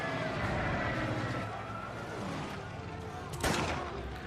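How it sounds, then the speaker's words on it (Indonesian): Dense gunfire from an attacking plane in a desert war film, rapid continuous rattling bursts with a loud sharp crack near the end, layered over engine roar and battle noise. "tembakan secara membabi buta."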